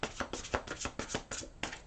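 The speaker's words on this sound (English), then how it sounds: "One more shuffle." Angel and Law of Attraction oracle cards being shuffled by hand in a series of quick, close riffling bursts and soft taps, about nine in under two seconds, fairly quiet with no talking.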